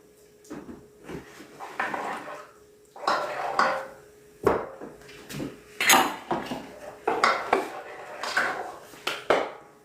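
A spoon stirs palm oil and oba in a cooking pot for usekwu soup, giving repeated close metallic scrapes and knocks against the pot in uneven bursts, with no talking.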